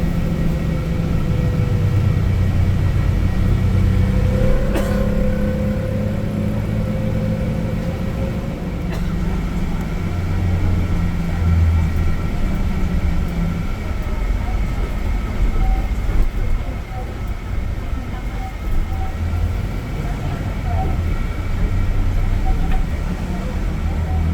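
Trans Jatim corridor bus driving onto the Suramadu bridge, a continuous loud engine drone and road rumble from inside the cabin with a faint passing tone, steady throughout.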